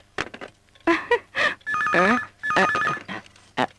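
A telephone rings in a Hindi dubbed movie, repeated electronic trill bursts mixed in among short spoken lines from actors.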